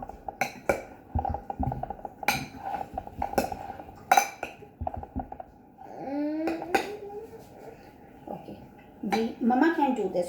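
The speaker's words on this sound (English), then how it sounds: "we will mix the mushrooms with the dahi" Mushrooms are stirred into dahi (yogurt) in a bowl, with a spoon clinking and scraping against the dish in irregular bursts. People talk and children chatter in between.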